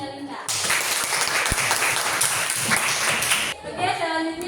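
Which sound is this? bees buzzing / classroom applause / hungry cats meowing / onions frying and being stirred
classroom applause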